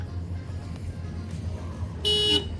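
A Tata Punch's panic alarm, set off by pressing the lock and unlock buttons together, lets out a short loud harsh horn blast near the end after a quiet low rumble.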